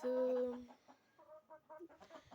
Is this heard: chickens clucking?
yes